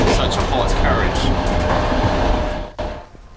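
Inside a hot, crowded passenger train carriage travelling to Zhytomyr, Ukraine, a loud steady rumble and rattle of the moving wagon fill the space, then ease briefly near the end.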